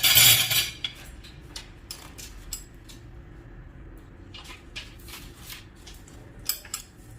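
Two spoonfuls of milk powder go into a bowl of flour for an eggless chocolate cake, a brief burst of rustle at the start followed by light spoon clinks and taps against the bowl, quiet and sparse, with no talking.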